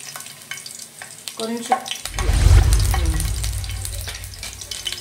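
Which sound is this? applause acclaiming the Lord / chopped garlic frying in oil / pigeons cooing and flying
chopped garlic frying in oil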